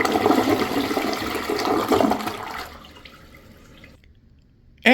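A Toto Drake II toilet flushes, with a loud rushing swirl of water through the bowl rinse that gradually fades into a quieter trickle and drain, then near silence.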